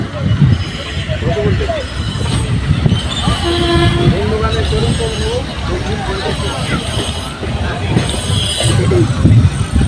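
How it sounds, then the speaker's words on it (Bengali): A local train on the Howrah–Katwa line pulls into Bandel Junction, heard from on board as a steady, loud rumble of wheels with squeals and a horn, while people talk over the noise. "আমাদের ট্রেন ঢুকছে এখন ব্যান্ডেল জংশন।"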